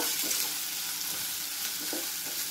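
Tomatoes sautéing in a green masala paste in a pan for Malvani tisrya sukka, a steady broadband sizzle close by with soft stirring scrapes, no talking.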